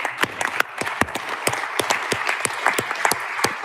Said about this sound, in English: let's give one more round of applause for all the hackers.